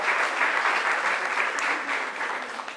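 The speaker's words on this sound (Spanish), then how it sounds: "Dense un aplauso en el nombre del Señor." A church congregation claps together in a steady, full round of applause that fills the room for the whole moment.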